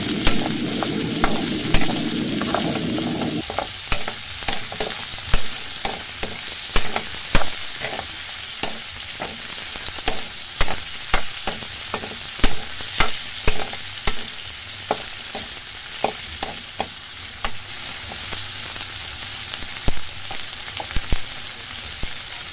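Pork with ginger fries in a pan with a constant bright sizzle, broken by a louder burst early on and repeated sharp scrapes and clinks of a utensil stirring at a steady, unhurried rhythm, close and without speech.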